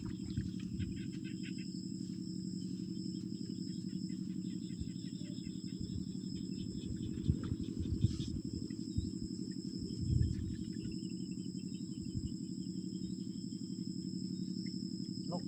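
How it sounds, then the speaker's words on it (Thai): At night, frogs croak in a steady, dense pulsing chorus that fills the background without pause, joined by a constant high insect whine, with no voices. "บ่มีเสียงหยังหน่อยนอกจากเสียงกบเสียงเขียด"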